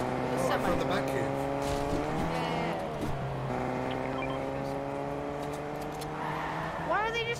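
Cars revving and tire squeal in the Fortnite video game, steady engine drones with rising pitch sweeps and a final rev, heard alongside game effects and under a player's speech.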